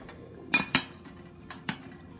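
Metal clanks as a lid goes onto a pot of seafood rice with smoked sausage: two sharp clinks close together, then two softer knocks after a short pause, with no talk.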